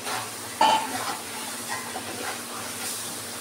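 Boiled potatoes drop into a pan of chicken frying in a light spice mix, a soft thud and stir over a steady sizzle and hiss of hot oil that carries on quietly afterward, with no talking.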